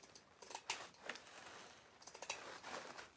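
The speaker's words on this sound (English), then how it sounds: "So I'm just going to cut this in half." Scissors cut a strip of tinsel ribbon in half, heard as a few quiet, crisp snips with light metallic rustling between them, close and faint.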